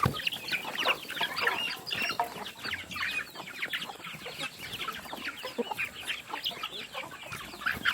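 Chickens clucking at feeding time in a rural Vietnamese yard, many overlapping close clucks and cackles in a busy continuous chatter, moderately faint.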